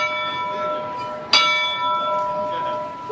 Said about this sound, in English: You can hop up in the cab and ring the bell.